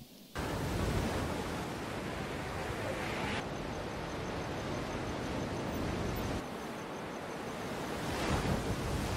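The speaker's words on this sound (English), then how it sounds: "they're connected by the sound of the ocean present throughout the film" Ocean surf on the Senegal coast in the film Atlantics rolls in as a constant broadband wash of breaking waves with some wind, shifting in tone between sections as if across cuts, with no voices.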